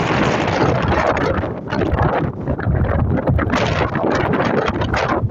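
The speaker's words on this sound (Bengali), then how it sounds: "প্রচন্ড হাওয়া পেয়েছে" Strong afternoon wind buffets the microphone outdoors near a school, loud roaring gusts that dip briefly and surge again, with no voices.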